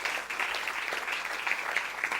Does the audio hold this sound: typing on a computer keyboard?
no